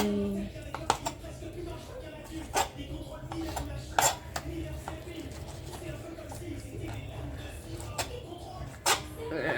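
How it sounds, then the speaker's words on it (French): Knife chopping vegetables into small pieces on a cutting board for a budget gratin: a handful of sharp, scattered taps spread over a low, steady kitchen background. "je coupe tout ça"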